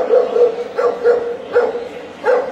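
A dog barks at a 2025 dog show in Sri Lanka, a close, loud series of about seven short woofs in an uneven rhythm with brief gaps between them.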